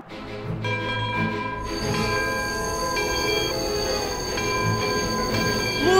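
A train rumbles along the rails with loud, sustained metallic wheel squeals ringing over the clatter, growing slightly louder toward the end.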